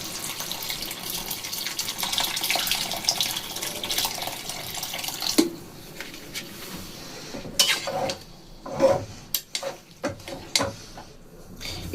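Hot water from an electric kettle poured into a pot of cooking dal, a steady close splashing stream for about five seconds, then quieter clinks and scraping knocks from the pot.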